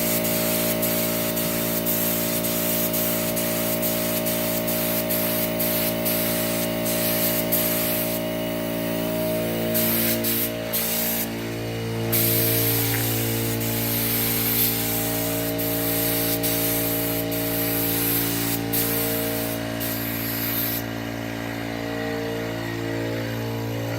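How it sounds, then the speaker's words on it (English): Spray gun laying a light coat of gold paint onto a farmhouse buffet, a continuous close hiss of atomized paint with steady motor hum and small clicks, running without talk. "let's get started here and get a light coat of paint on it."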